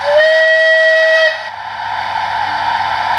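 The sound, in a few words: Bulleid chime steam whistle from DCC sound model locomotive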